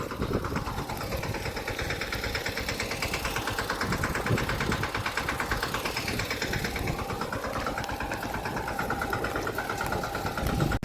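A tractor engine runs steadily in a cotton field, a continuous, loud, rumbling drone with a slightly rising and falling pitch and no pauses, heard close by without talking.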